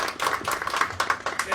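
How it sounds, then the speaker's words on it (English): A small outdoor crowd at a city council announcement claps for the council president, with brisk, irregular handclaps of moderate loudness and no talking. "so give him a round of applause."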